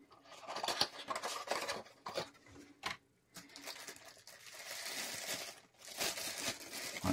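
Packaging around an airsoft extension unit for a G&G CM16 ARP9 or ARP556 being unwrapped up close, with bursts of crinkling and tearing broken by short pauses.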